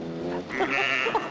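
A sheep bleats twice in quick succession, close by and fairly loud, with a wavering, nasal cry and no talking.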